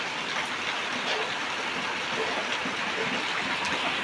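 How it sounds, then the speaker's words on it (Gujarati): Steady rain pours down over a village farm, the kind of long monsoon downpour that floods a groundnut field; a dense, even hiss of falling drops continues throughout with no voices. "વરસાદ આવ્યો તો 4 વાગ્યાનો ચાલુ છે"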